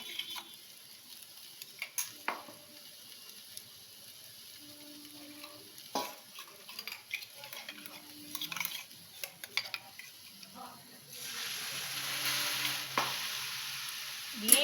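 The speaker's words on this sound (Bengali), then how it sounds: "এবার নাড়াচাড়া করব এইটাকে একটু ভেজে নেবো পোস্তটাকে খুব বেশি ভাজবো না" Poppy seed paste fries quietly in a pan with scattered scraping and tapping as it is stirred, soft intermittent strokes, then a louder steady sizzle near the end.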